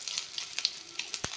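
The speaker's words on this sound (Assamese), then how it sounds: "কণী 4টা ভালকৈ ভাজি ল'লোঁ।" Four eggs fry in a pan with a soft, steady sizzle, broken by a few light crackles and pops at irregular moments. No voices are heard.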